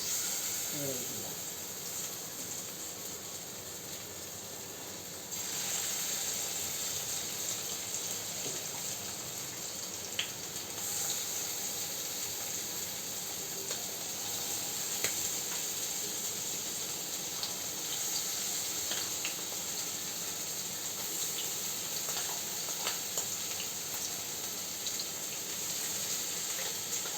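Fish fritters frying in hot oil make a continuous bright, hissing sizzle with scattered small pops, steady and close, while a person speaks at times.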